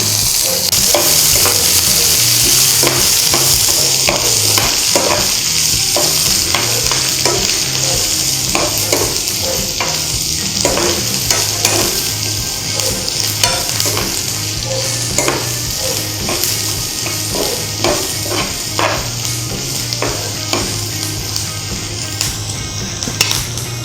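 Onion and green chili fry in a pan while being stirred, a loud, continuous sizzle layered with repeated scraping and tapping strokes of a spoon throughout.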